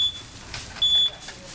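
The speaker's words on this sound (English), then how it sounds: "What's beeping?" A thin high-pitched electronic beep sounds briefly, then again slightly longer, over faint background noise.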